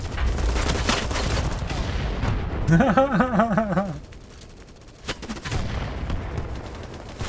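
Rapid gunfire and heavy explosions from a Minecraft-style battle game form a dense, loud, continuous barrage, joined midway by a wavering, siren-like tone and then easing into quieter scattered shots.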